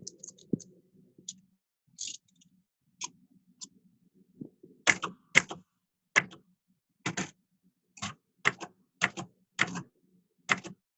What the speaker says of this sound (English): Typewriters are cool.